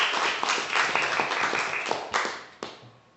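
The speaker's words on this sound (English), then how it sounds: "A big round of applause for them." Brief applause from the audience at a consulate and university signing ceremony, a small group clapping with scattered distinct claps that thin out and fade after a few seconds.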